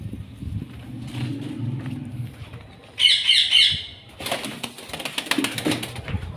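Pigeons carried by hand coo softly, then break into a sudden burst of chirping and squawking with wing flaps, followed by scattered rustling and fluttering, all close by.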